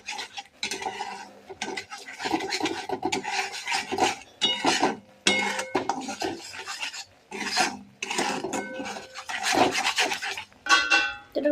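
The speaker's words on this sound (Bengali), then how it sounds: "তো মশলাটা খারাপ করে ভালো করে নাড়িয়ে দিচ্ছি আমরা।" A spoon scrapes and stirs spice masala around a pan in repeated rasping bursts with short pauses between strokes, close and fairly loud with no talking.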